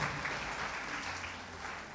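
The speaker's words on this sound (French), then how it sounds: "Levez-vous, qu'on vous applaudisse." Steady, dense clapping from an audience at a French teachers' conference, sustained and fairly loud throughout with no voices on top.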